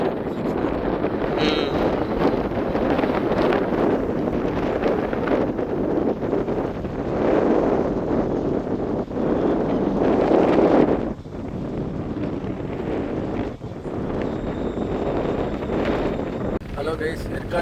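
Strong wind blows at a hilltop viewpoint in Yercaud, buffeting the microphone with a loud, continuous roar that swells and eases, while people talk throughout.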